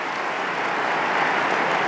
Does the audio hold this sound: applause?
yes